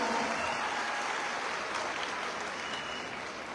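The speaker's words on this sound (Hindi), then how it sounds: "एक बार जोरदार तालियां इन 17 वर्षों के लिए।" A large seminar audience in India applauds the company's seventeenth anniversary, a steady, even wash of clapping that stays constant and tapers slightly near the end.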